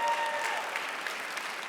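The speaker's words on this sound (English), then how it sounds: "Round of applause." Audience applause at a corporate insurance industry event, a steady wash of clapping from a sizable crowd that holds even throughout and stays moderately loud with no voices on top.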